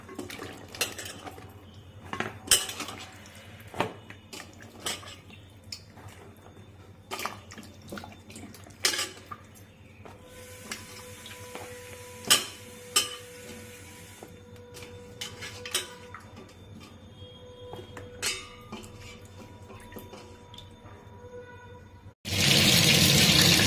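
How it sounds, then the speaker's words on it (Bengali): Water runs and splashes in a sink while pointed gourd and potatoes are rinsed, with scattered clinks and clatters of a bowl between the gushes. "ভালো করে দুবার জল দিয়ে ধুয়ে নিলাম।"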